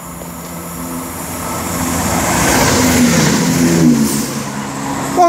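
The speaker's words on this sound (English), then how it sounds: "now about to pass by is going to be a cross-country turbo star from Cardiff Central to Nottingham" A CrossCountry Turbostar diesel unit on the Cardiff Central to Nottingham service passes on the Lickey Line at Bromsgrove, its engine and wheel rumble swelling steadily as it draws near and stays loud through the end.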